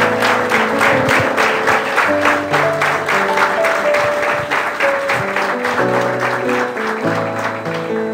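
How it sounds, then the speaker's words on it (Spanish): Church congregation clapping at a Spanish-language service, a steady rhythmic beat of many hands in time with music playing underneath, loud and continuous throughout. "damos un fuerte aplauso al Señor por la vida"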